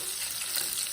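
Something fries in a small amount of oil for a pasta dish, a short, even hiss of sizzling heard up close without any voices.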